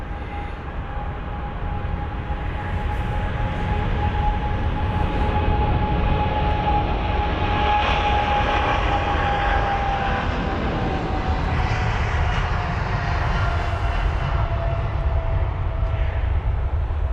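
A 23-year-old jet airliner departing London Heathrow, a loud steady engine roar with a sustained whine that slowly falls in pitch, continuous throughout without talk.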